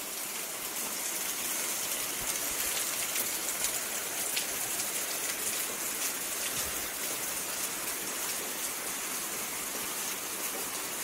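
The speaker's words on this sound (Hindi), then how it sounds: "झमाझम बारिश हो रही है" Heavy rain pours at night in Jim Corbett National Park, a steady, dense hiss of drops drumming on surfaces without pause, close and unbroken, with no voices.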